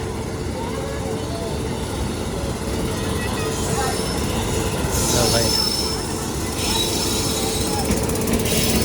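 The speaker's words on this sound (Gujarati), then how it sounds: "અહીંયા બીજી એક ટ્રેન આવી હતી જો" A train rumbles past close by at a small railway station with screeching, squealing wheels and clattering carriages, while people talk over the steady mechanical noise.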